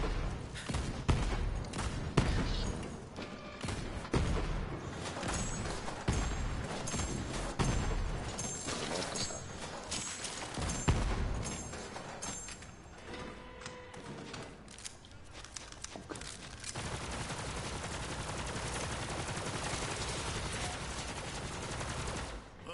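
Pistol shots crack out in quick, irregular volleys in Borderlands 3, moderately loud against a busy game soundscape, with a steadier noisy stretch near the end.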